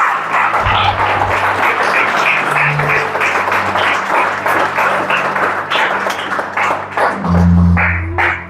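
A church congregation applauding together, steady loud clapping from many hands that fills the space from start to finish.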